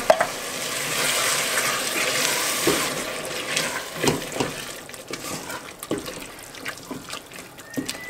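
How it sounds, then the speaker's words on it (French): Homemade peasant soup with canned peeled tomatoes is stirred in a pot, giving wet sloshing and a soft sizzle, then a series of intermittent scrapes and knocks that grow sparser toward the end. "Et on mélange"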